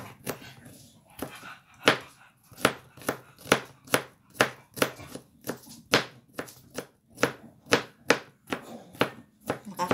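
Rapid, steady knife chopping on a board while preparing pasta in aligue sauce, a long run of sharp, evenly spaced close-up thwacks over about ten seconds.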